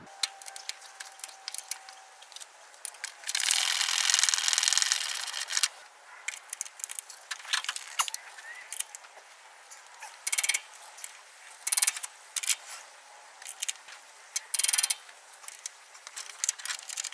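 A ratcheting wrench clicks in short irregular bursts on 14 mm control arm bolts, with a longer rasping stretch of mechanical noise near the start, close and fairly crisp.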